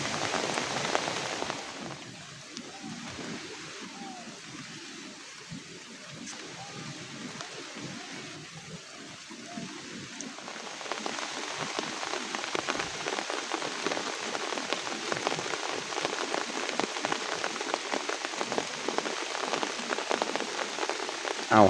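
Steady rain falls throughout during Thailand's rainy season, lighter at first and then growing into a louder, denser downpour of drops hitting surfaces.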